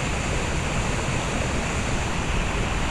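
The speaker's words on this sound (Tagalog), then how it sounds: "Ayun yung falls." A rain-swollen waterfall on a mossy trail in North Luzon roars as a dense, loud, unbroken rush of water, close and continuous with no talk.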